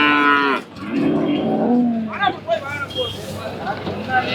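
At the Kundadam cattle market, buffalo being unloaded let out a couple of deep, drawn-out lows near the start, followed by clattering, shuffling market noise and people talking.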